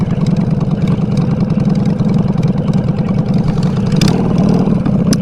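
A Honda Shadow Bobber motorcycle engine runs loud and close, a steady rumbling idle with a slight rise as it revs. There is no talk.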